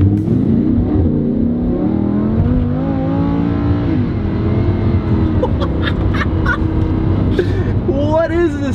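Lamborghini Huracan sports car in second gear driving fast, its engine a steady loud drone with a rising pitch sweep near the end, heard continuously from inside the cabin.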